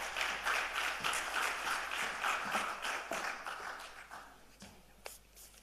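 An audience at an aviation conference applauds, steady scattered clapping from a crowd in a hall, fairly distant and moderate, slowly thinning out toward the end.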